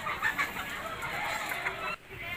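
Free-range village chickens clucking at Majenang's main market in Indonesia, a busy, steady jumble of clucks set against dense market bustle and hiss, moderately loud throughout with a brief dip near the end.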